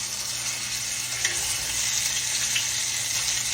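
A beef roast sears in a little oil in a skillet, giving a steady, dense sizzle and crackle at close range that runs the whole way through with no talk.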